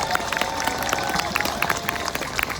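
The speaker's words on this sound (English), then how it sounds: "so I'd like to give them a big round of applause as well." Applause from an outdoor crowd at a Christmas tree lighting ceremony, a dense continuous patter of many hands clapping at moderate distance, steady throughout.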